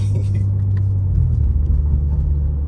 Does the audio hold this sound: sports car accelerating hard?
yes